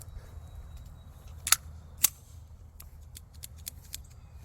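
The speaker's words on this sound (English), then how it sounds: "just dry fire it" A handgun dry-fired indoors in a class gives two sharp, crisp metallic clicks about half a second apart, followed by several fainter ticks and clicks, close but quiet over low room hum.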